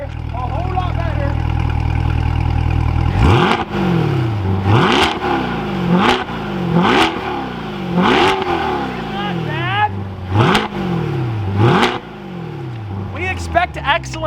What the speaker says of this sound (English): this right here is a stock exhaust cold startup on a C8 Corvette